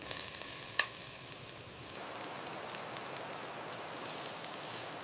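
Pork browning in a hot pan for a Vietnamese sandwich gives a steady, close sizzle and crackle, with one sharp utensil clink near the start.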